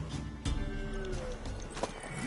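A horse in The Witcher 3 game, with a short neigh and a few hoof thuds over a busy background in a brief, moderately loud stretch.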